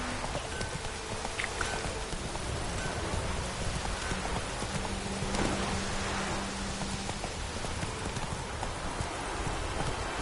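Steady rain pours in a PS4 video game, a dense, even hiss that fills the whole stretch with no break, loud and constant, with a faint low tone drifting through the middle.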